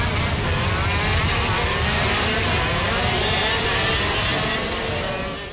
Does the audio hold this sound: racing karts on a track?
yes